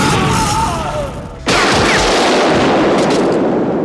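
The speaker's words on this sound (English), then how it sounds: "Kurov almost corners him with gunfire" Gunfire cracks out in a movie fight: a faint rattle is followed by a sudden loud burst of rapid shots that continues densely, with echoing booms in a cave setting.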